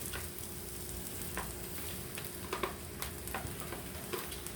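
Vegetables sizzle steadily in a pan over medium heat, a constant close frying hiss broken by scattered clicks and taps as pieces shift and settle.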